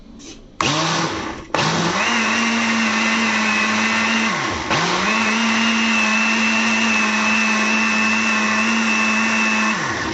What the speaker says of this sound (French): Comme vous voyez, je vais le mixer.